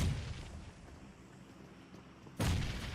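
A grenade explodes in an esports video game match, a sudden loud boom near the end that breaks a quiet stretch of low background rumble.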